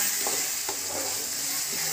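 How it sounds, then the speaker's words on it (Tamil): Cumin seeds fry in hot oil for an onion chutney, giving a steady loud sizzle with faint pops and stirring throughout. "சீரகம் அளவு கொஞ்சம் எண்ணெயில் போட்டு பொறி விடுங்க"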